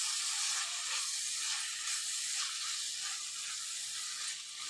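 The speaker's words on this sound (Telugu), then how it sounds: "స్పైసెస్ అనేది ఒక 5 మినిట్స్ నుంచి ఇట్లా ఆయిల్లో ఫ్రై చేసుకున్నాం కదా" Spices and ivy gourd frying in oil in a covered pan give a steady, close, fairly loud sizzling hiss that runs without a break, with no talking.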